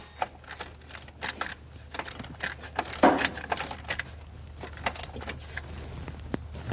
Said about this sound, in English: I'm going to tighten this bolt here first.